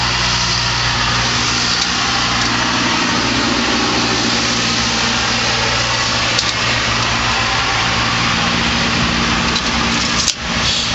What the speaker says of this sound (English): Sorry for all the noise and the traffic